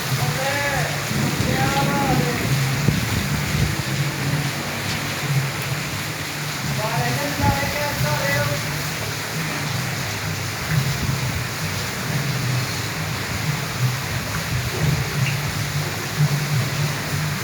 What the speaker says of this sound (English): you can watch a heavy rain in my city